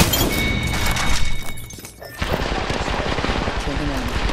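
Rapid automatic gunfire from Apex Legends rattles loudly and close, briefly dropping out before resuming in fast, steady bursts, with a voice speaking amid the shooting.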